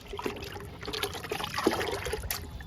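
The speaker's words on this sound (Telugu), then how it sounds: "కూరగాయ మొక్కలన్నిటికీ బొప్పాయి తొక్కలతో తయారు చేసిన లిక్విడ్ని ఇచ్చేద్దాము" Homemade papaya peel liquid trickles and splashes steadily onto vegetable plants, a close, continuous watery pour with small spatters and no talking.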